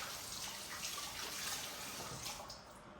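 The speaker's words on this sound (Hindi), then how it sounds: "खीरा इतना काफ़ी है, धो लें इसको" A cucumber washed under a running tap, steady splashing water stream close by, alone for a few seconds.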